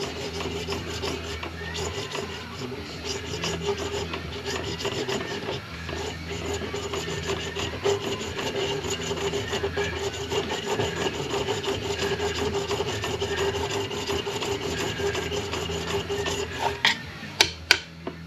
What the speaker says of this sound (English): Good old Harbor Freight chainsaw file.